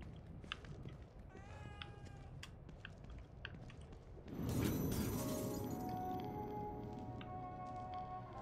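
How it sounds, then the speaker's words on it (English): A cat meows a few times in the video game The Evil Within 2, short tonal cries early on, followed by a sudden loud crashing burst and a lingering ringing game ambience. "I want to pet the cat."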